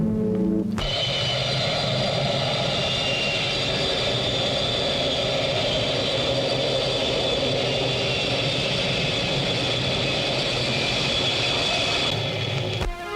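An airplane engine roars in a steady, loud whine and rumble for several seconds at a flight departure in a film scene, cutting in abruptly and fading at the end, with no talk.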